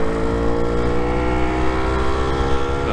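A Lambretta scooter's two-stroke engine drones loud and close with a steady buzzing tone as it accelerates through a bend in third gear.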